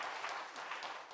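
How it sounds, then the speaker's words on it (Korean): A church congregation applauding during a Sunday worship service, a steady wash of clapping from many hands filling the room throughout, with no voices over it. "큰 박수로 축복해 주시기 바랍니다."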